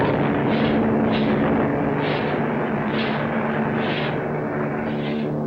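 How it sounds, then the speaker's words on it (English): Bombs dropped from a bomber explode in a 1955 British supernatural drama film: a loud, continuous roar pulses with a steady series of dull blasts, about one each second, with no talk. "Bombs away."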